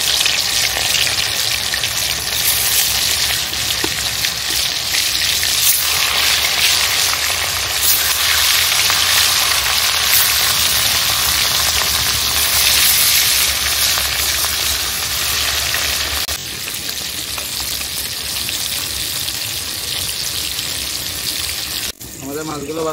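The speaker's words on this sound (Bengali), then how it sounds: "এবার আমাদের ম্যারিনেট করে রাখা মাছগুলোকে আস্তে আস্তে আমরা ছেড়ে দেবো তেলে।" Marinated katla fish pieces slid into hot oil and frying after potatoes, a loud continuous sizzle and crackle that eases slightly near the end, with talking under it.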